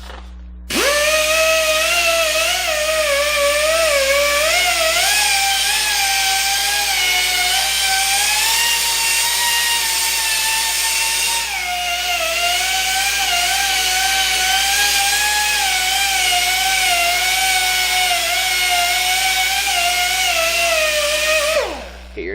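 A power tool with a sanding disc whines steadily against a Ford brake disc, resurfacing it to stop squeaks. The high, continuous tone is close and loud, dips slightly midway, holds for about twenty seconds and then cuts off, with no speech.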